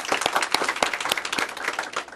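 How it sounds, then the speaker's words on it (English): An audience at a Maryland foreclosure initiative meeting claps in steady, moderately loud applause filling the room for a couple of seconds. "if we can give him a round of applause for his work."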